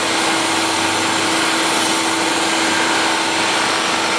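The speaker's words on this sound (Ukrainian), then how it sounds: "перше, що я роблю, я включаю шпиндель" A spindle hones an automatic transmission housing with ordinary oil, giving a continuous, loud, even machine whir with a faint steady hum underneath and no pauses.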